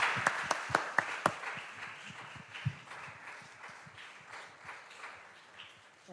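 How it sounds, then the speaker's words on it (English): A round of applause for two student trial teams at a championship mock trial competition, starting with a few sharp separate claps and then settling into soft, scattered clapping, faint and somewhat distant. "How about a round of applause for our two teams?"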